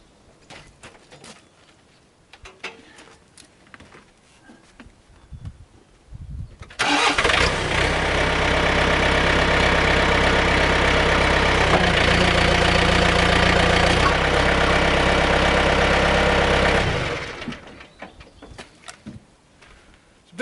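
Tractor engine cranking and catching, then idling loudly and steadily for about ten seconds before shutting off, with quieter outdoor clatter before and after.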